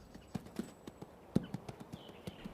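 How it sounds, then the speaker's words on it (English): An unhandled two-year-old quarter horse stud, born on the open range, moves on a ranch in Northern California. Its hooves land in irregular, moderately close clip-clops, with one heavier thud standing out among the softer steps. "This 2-year-old quarter horse stud, born on the open range, has never been handled."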